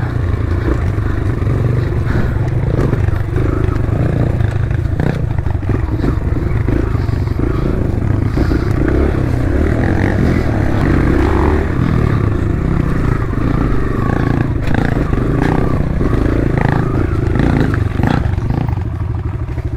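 An enduro motorcycle on a rough trail ride in Bugallon–Mapita, Pangasinan, drones loudly and continuously up close, its engine rising and falling over rattling, clattering jolts from the bumpy ground.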